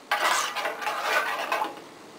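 A spoon stirring creamy sauce in a pan, scraping and clinking against the metal in a few steady strokes, close and clear with no voices.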